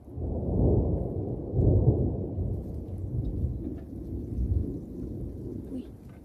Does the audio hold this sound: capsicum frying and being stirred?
no